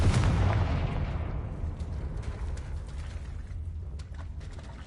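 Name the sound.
Confringo blast spell explosion in a video game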